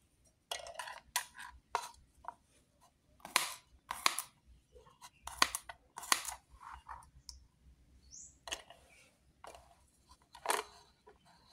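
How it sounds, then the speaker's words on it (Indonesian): Sharp, irregular knife taps on a cutting board as vegetables are chopped small, close and quiet, coming in quick bursts with short pauses between. "Ini kita potong kecil-kecil"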